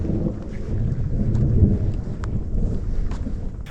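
Mountain thunderstorm on a hike near Tre Cime: a deep, continuous rumble of thunder swelling and fading under steady rain patter and faint rustling, close and loud, with no voices.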